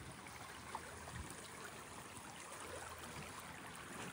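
A river stream flows steadily in rural Nepal, its soft, even rushing water quiet and continuous throughout, with no other clear sounds.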